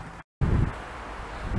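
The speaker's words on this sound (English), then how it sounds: "Sorry about the wind." Outdoor wind gusts buffet the microphone in short, rumbling bursts of low noise, broken by a brief dropout of near silence.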